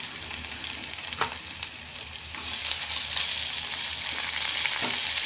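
Bitter gourd frying in a pan with onion and tomato, a loud steady sizzle that swells and brightens partway through as the fresh vegetables hit the oil, with occasional stirring scrapes.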